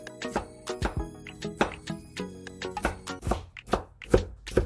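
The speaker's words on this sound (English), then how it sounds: "Cut them up in tiny pieces." Knife chopping seafood chowder ingredients into tiny pieces on a cutting board, a steady run of sharp, close taps repeating several times a second, with no voices.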